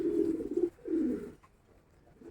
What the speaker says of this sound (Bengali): এটা নর পায়রা আছে।